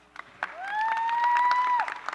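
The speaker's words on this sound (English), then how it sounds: "So give yourselves a round of applause." An audience at a Martin Luther King Jr. commemorative vigil applauds with scattered claps while a piercing whistle rises and holds for over a second before cutting off, moderately loud and close.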